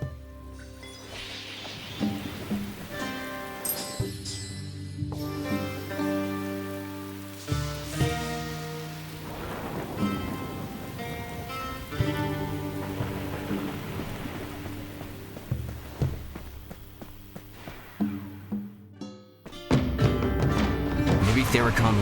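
Steady rain pours throughout with rumbles of thunder in the fantasy video game Echoes of Mystralia, layered under swelling orchestral music, with a heavier downpour surging at the end.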